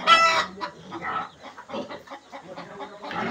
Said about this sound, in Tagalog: Doon naman, manok.